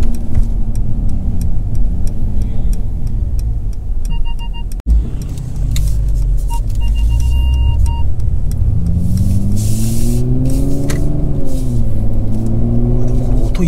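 A 2018 Mercedes-Benz CLS450 drives on a public road, its engine a steady low rumble with tire and road noise, rising in pitch as it accelerates late on, heard from inside the cabin with a brief bump midway.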